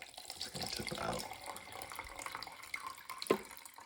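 Film developer is tipped out of a developing tank during home stand development with Rodinal, a steady nearby pour of liquid splashing down a drain, ending with a small clink.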